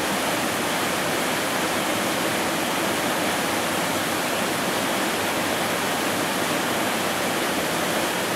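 The Fotinovo waterfalls near Fotinovo village give a steady, dense roar of falling water heard from close by on the rocks, loud and unbroken throughout, with no voices.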